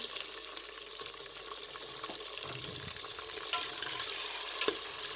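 Meat sizzles in a pot with onions and spices for a turnip and meat curry, a steady dense crackle throughout with occasional stirring clinks.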